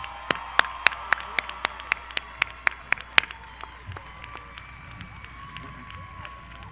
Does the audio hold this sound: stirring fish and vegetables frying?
no